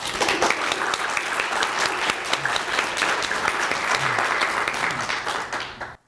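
An audience at the Tampa Bay Times Festival of Reading claps steadily to welcome speaker Linda Bond. The dense, even applause holds for about six seconds, then cuts off abruptly.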